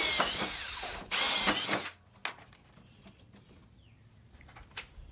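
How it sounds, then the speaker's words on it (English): Power drill boring holes for T-nuts while installing a chute blocker plate on an Altoz XP610 mower, two loud whirring bursts close by, then quiet with a few faint clicks. "we'll go ahead and drill the remaining 6 holes"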